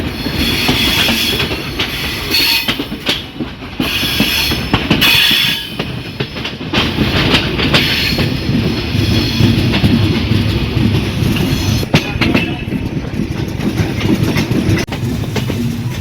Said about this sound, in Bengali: ঈশ্বরদী বাইপাসে স্টপেজ দিতে প্রবেশ করছে রাজশাহী হতে ছেড়ে আসা রাজধানী ঢাকা অভিমুখী আন্তনগর পদ্মায়